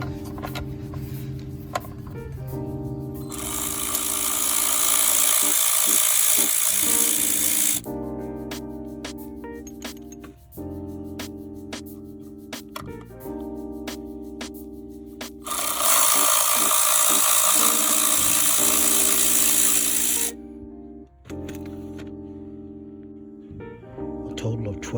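Metal screws come out of a car's oil pan in bursts of gritty, grinding turning, two long spells of it with clicks and knocks between, close up.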